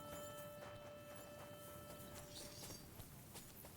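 Horse hooves clop faintly and steadily in the video game Kingdom Come Deliverance 2, soft regular footfalls set against low ambient noise and a thin steady tone.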